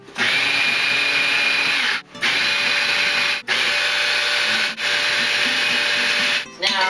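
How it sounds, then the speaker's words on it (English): A blender whirs through curried broccoli and chicken casserole, a loud, steady motor whine that runs in several long pulses separated by brief stops. "We're gonna blend this."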